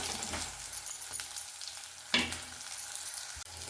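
Palak rice ingredients frying and being stirred in a pan, a steady soft sizzle broken by a few scraping strokes of the spoon, close and fairly quiet, with no talking.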